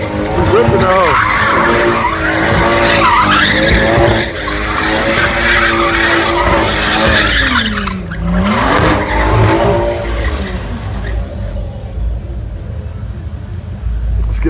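A street car doing a burnout at a night pit event, tires skidding and squealing continuously under a loud, revving engine, with a crowd voice calling out over the din throughout.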